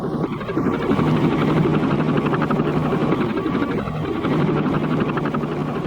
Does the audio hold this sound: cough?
no